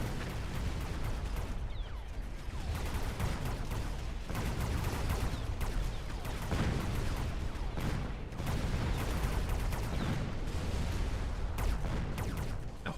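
Overlord artillery with jump drive fires in a video game tournament match, a dense, continuous barrage of booms and bursts that carries on for the whole stretch without talk.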